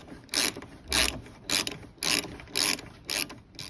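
A socket ratchet tightens the rear seat belt bolt in a VW T6, giving six bursts of close, crisp clicking in an even rhythm separated by short pauses.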